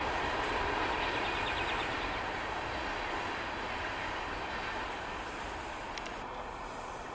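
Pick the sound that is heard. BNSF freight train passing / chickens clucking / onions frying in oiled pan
BNSF freight train passing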